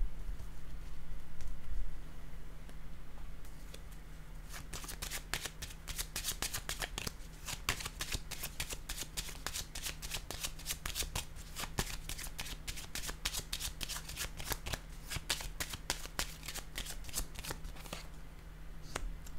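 Tarot cards are shuffled close by in a long run of quick, crisp riffling flicks, steady and fairly loud over a low hum.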